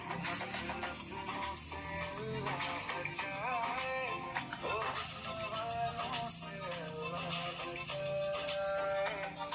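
A song plays through the small built-in speaker of a OnePlus Nord CE 2 5G smartphone, with steady layered music and vocals-like melodic lines running continuously at moderate level, no talking over it.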